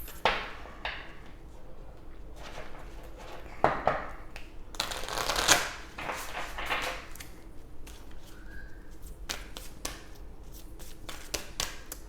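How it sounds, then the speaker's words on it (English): Oracle cards shuffled by hand, with soft papery riffles and rustles in irregular bursts, a few louder flurries among quieter handling, close up and with no voices. "let's go ahead and pull your oracle cards for overall guidance and healing"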